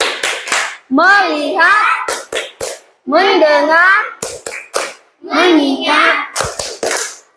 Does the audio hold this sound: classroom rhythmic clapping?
yes